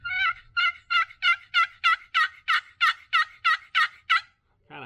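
A new custom turkey box call with chalk on it produces a run of about twelve raspy, fairly high-pitched, evenly spaced yelps, loud and close, then stops.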